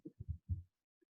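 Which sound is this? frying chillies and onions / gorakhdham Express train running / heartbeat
heartbeat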